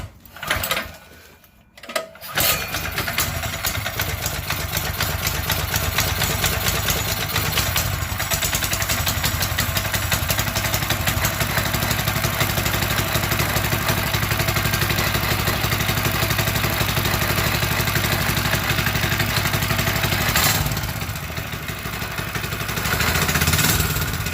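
212cc pit bike trike engine catching after a brief sputter with the choke on, then running at a loud, steady idle with a rapid clattering beat close by for about twenty seconds, revving slightly near the end.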